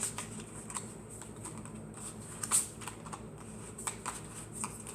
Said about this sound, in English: I know I can't shuffle cards very well